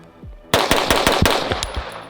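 Live gunfire on a shooting drill at 15 yards: after a brief quiet, a fast burst of about five to eight sharp, loud shots in quick succession, close and crisp with short echoing tails.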